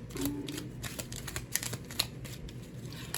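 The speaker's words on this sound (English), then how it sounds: "I'm going to shuffle it again because a lot tried to come out" A Rider-Waite tarot deck is shuffled by hand. Soft, rapid papery flutters and crisp card snaps come in quick bursts, close and fairly quiet, with no talking.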